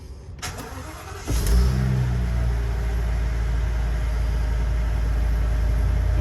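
An RV engine cranks at about 1.3 seconds, catches and revs briefly, then settles into a loud, steady idle that runs to the end with no voices over it.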